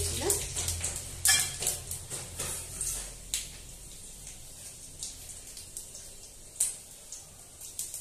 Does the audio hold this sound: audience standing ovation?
no